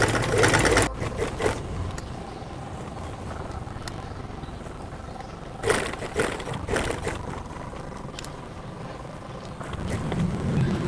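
A sewing machine runs in a steady mechanical whir while stitching a garment neckline, close and continuous with a louder burst at the start and a few brief knocks.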